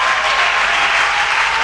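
A church congregation applauding during a Sunday worship service after baptisms, a loud, dense, continuous wash of clapping that stays even and fills the space. No voices are heard.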